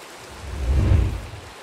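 Steady rain falling in the video game Minecraft, a soft broadband hiss that swells briefly in the middle and then eases back, heard alone with no talking.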